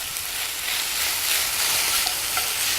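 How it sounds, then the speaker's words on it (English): Bacon fries in a camping pan with a dense, even sizzle, and the pan is stirred lightly throughout. "let's get the bacon in as well"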